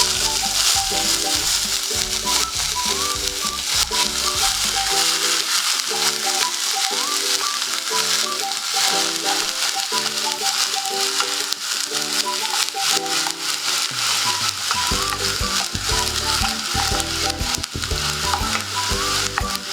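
Onion paste frying in a pan for a malai paneer dish, a steady loud sizzle running throughout over continuous background music.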